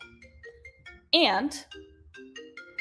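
A phone ringtone goes off in the middle of a presentation, a short bright melodic burst over the presenter's ongoing speech.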